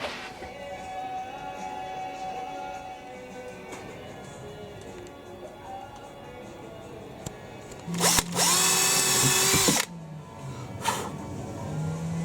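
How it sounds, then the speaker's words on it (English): Power drill boring pilot holes into a boat cockpit, a short loud high whine of about two seconds rising out of quiet workshop background, with faint handling noises before and after. "I've just been drilling these pilot holes"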